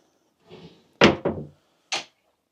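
Wardrobe drawers in a hotel room are handled, giving a soft slide followed by three distinct knocks and thuds, close and fairly loud, heard alone.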